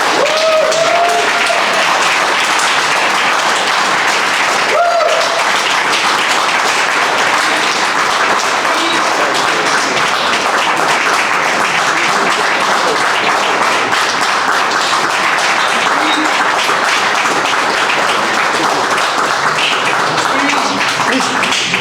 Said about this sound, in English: please join me in welcoming and giving a big round of applause to Mr. Eric Braysmith.